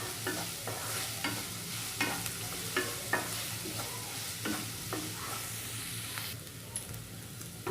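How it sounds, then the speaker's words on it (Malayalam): Onions for an egg curry frying in a pan, a low steady sizzle with regular scrapes and knocks of a spoon stirring, close and fairly quiet. "നമ്മുടെ സവാള ഇപ്പം നന്നായിട്ട് ഫ്രൈ ആയി വന്നിട്ടുണ്ട്."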